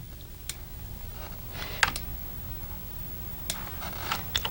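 Keys tapped on a computer keyboard during Lightwave 3D body modeling: a few sparse, quiet clicks spread out over the clip against a low background hum.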